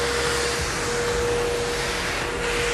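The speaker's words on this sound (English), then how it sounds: "And Jen, if you want to turn your vacuum on" A wet vacuum runs during a floor-stripping job, a steady loud whine and airy roar that holds at one level throughout with a faint constant tone.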